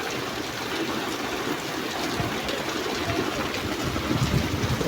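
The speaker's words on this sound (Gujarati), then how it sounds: "વરસાદ આવી ગયો છે." Rain falling steadily in a village, a dense, even hiss of drops that continues without a break, fairly loud, with no talk.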